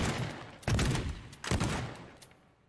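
Shotgun blasts in the video game Teardown, two loud sharp booms about a second apart, each trailing into a short decay, with no talking.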